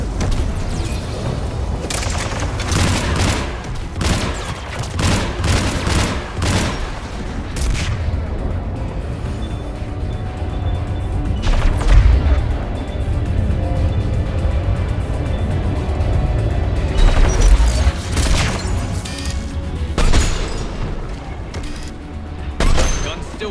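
Repeated heavy turret gunfire in the Mass Effect 3 video game, loud booming shots in bursts and rapid volleys over roughly twenty seconds, with a voice speaking over it.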